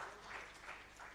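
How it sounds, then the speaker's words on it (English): Conference audience at an investment event applauding faintly, a soft continuous patter of many hands heard from a distance. "You should clap for them."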